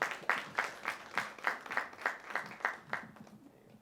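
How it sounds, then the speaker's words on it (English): Sparse, faint applause at a small SME business forum, a handful of people clapping in a slow, steady rhythm of distinct claps that trails off after a few seconds. "Round of applause for Dolores Dixon."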